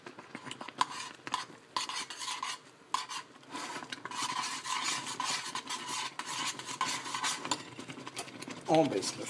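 Oatmeal porridge is stirred in a pot, a continuous close rasping scrape of spoon against metal with a few brief pauses and a voice faintly present.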